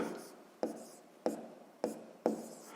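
A pen scratches out a sixth-grade math exercise by hand, giving quiet, close strokes that come as about five separate bursts, each starting sharply and fading.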